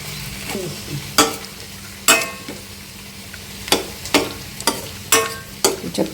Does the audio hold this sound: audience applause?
no